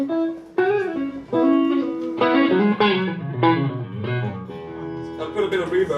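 Electric guitar played through a Victory Kraken amplifier, with sustained harmonically rich notes in short phrases and clear attacks, loud and close.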